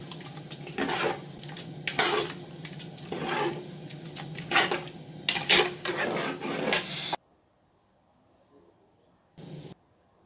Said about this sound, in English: So after that, I'm going to just stir together so that it will cooperate with all the ingredients I already added.